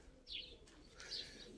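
Pigeons calling quietly from somewhere nearby, two faint short bird calls in a row over soft background noise.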